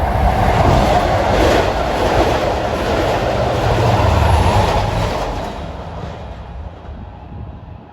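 Long Island Rail Road train 8763, running from Patchogue to Jamaica, roars past nearby as a loud, broad rumble that holds steady, then fades over the last few seconds.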